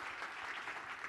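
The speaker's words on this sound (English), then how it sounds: "So a round of applause for one person in our audience." Audience applause in a presentation hall, a brief steady wash of clapping from a crowd at moderate distance, with no voices over it.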